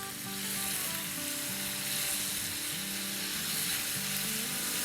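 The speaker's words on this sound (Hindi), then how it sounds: "तो इसे हम डाल देते हैं अपने पैन में। बस थोड़ा सा सौटे करेंगे जब तक कि इसका थोड़ा सा कलर चेंज ना हो जाए।" Chicken sautéing in a pan, a steady broadband sizzle that holds fairly loud throughout with no talking, accompanied by a low tonal hum.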